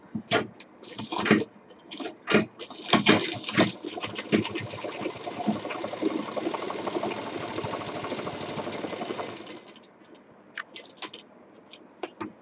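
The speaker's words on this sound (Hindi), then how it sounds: "तो इसको सिलने के लिए ये जो कपड़ा है यहाँ से हम बराबर सिलेंगे इस तरह से।" A sewing machine stitches cloth for a simple DIY shopping bag in short start-stop bursts, then a long steady whirring run, then a few more brief bursts. Nobody speaks.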